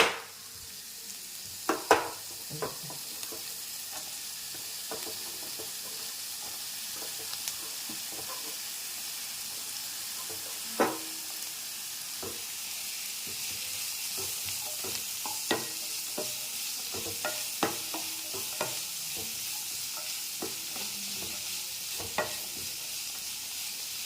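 Beetroot being stir-fried for a thoran with coconut and curry leaves, a steady close sizzle with intermittent scraping stirs of a spoon against the pan, no voices.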